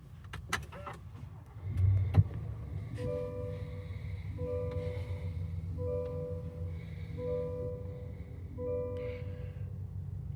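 A 2023 Cadillac Escalade Sport Platinum starts by push button. A few clicks lead to a brief engine crank near two seconds, then a steady low idle hum continues under repeating electronic chime tones.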